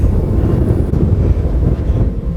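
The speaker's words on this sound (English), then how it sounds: "It's windy." Loud, low rumbling buffeting of wind hitting the microphone at a windy, sandy spot, constant and heavy throughout with no voices.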